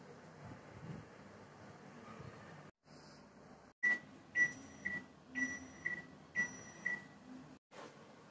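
A microwave oven cooks onions on high power under a lid. A low steady hum and fan whir run for several seconds, then a quick series of six or so sharp electronic beeps with brief pauses between them, and no talk.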